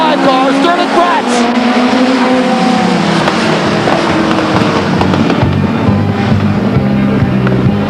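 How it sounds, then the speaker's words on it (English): A race car roars out of turn 4 at Stockton 99 Speedway in 1999, loud and continuous with a shifting engine whine, while a public-address announcer talks over the noise. "Out of turn 4, here comes your unofficial winner of the 45 car, Sterling Prats."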